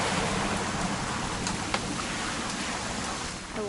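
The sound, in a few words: rain in What Remains of Edith Finch video game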